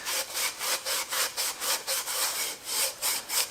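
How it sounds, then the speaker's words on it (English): A Scotch-Brite pad scrubbing rubber off an aluminum part, a rapid rhythmic series of back-and-forth rasping strokes, about three per second, close and fairly loud. "I'm actually gonna clean this off with some Scotch-Brite."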